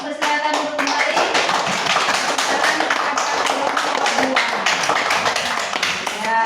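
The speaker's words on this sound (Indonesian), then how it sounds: "Ya, oke, tepuk tangan." Sustained applause from a crowd, many hands clapping loudly and continuously throughout.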